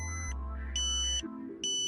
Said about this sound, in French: Vous entendez une nouvelle fois la tonalité ambulance.